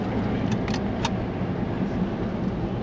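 Steady, loud road and tire roar inside a Jeep Laredo rolling on four new tires, with a few faint jingling clicks near the start and no speech.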